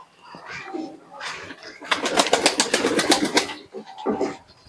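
Parent teddy pigeons kept for sale coo in soft, repeated throaty bursts close by. A rapid fluttering rattle sounds in the middle of the clip.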